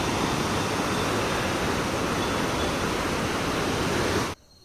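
The Sukiti khad, a mountain stream in Himachal swollen after night rain, rushes in a loud, dense, close roar of water that runs steadily and then cuts off abruptly near the end.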